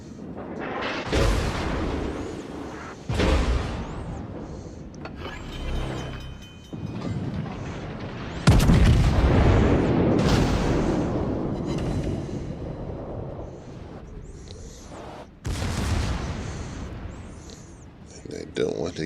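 Heavy battleship guns fire salvos in the naval game World of Warships aboard HMS Nelson, several deep booming blasts spaced seconds apart with rumbling tails, while someone talks over them.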